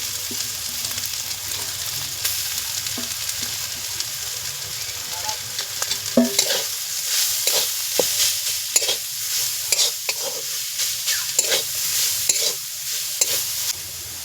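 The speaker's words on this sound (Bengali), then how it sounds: "এবার দিলাম গ্রেট করা বিটরুট" Grated beetroot frying in a pan, a steady broadband sizzle with stirring scrapes and clinks that grow busier in the second half, no voices.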